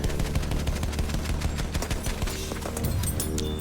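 Rapid bursts of aircraft machine-gun fire from an attack plane in the video game Battlefield 1, a dense, loud, continuous stream of shots throughout.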